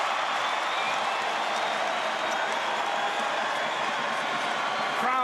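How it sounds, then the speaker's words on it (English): Basketball crowd at BK Arena in Kigali cheering and applauding at a close game, a dense continuous roar of voices and clapping throughout, with an announcer talking over it. "Crowd getting involved at the BK Arena."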